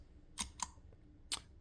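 A MIDI footswitch on a guitar rig with Line 6 gear is stomped, giving three sharp, close clicks, two in quick succession and one more after a short pause, over quiet room hum.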